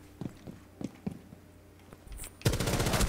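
Rapid automatic gunfire in Rainbow Six Siege, a dense loud burst in the final second after a few scattered sharp shots and thumps, with no talk over it.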